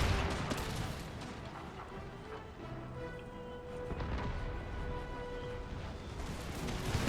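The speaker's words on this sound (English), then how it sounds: "So the grenades are exploding on impact." Hand mortar grenades bursting on impact during a battle in the strategy game Empire 2, a dense rumbling barrage of blasts and gunfire continuing throughout with no pauses.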